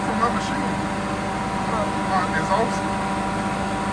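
A carpet cleaning van's machine runs with a steady, droning mechanical hum and a rush of exhaust air close by, while people talk over it.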